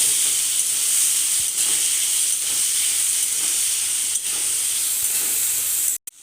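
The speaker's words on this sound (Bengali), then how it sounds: "তো আমি প্রথমে কেটে ধুয়ে রাখা আলু পেঁয়াজটা ভালো মতন লাল লাল করে ভেজে নেব।" Potatoes and onions fry in hot oil with a loud, constant sizzling hiss and faint crackles. The sizzle runs alone without any talk and cuts off abruptly at the very end.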